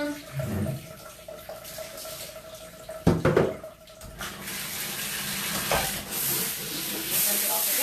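Water poured over a dog and rinsed off during a creative grooming session, splashing and trickling steadily, with a louder gush midway and continuous running water toward the end.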